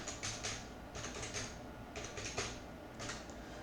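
Quick bursts of keystrokes on a computer keyboard come in short clusters of clicks separated by brief pauses, close and crisp over faint room noise, with no voices.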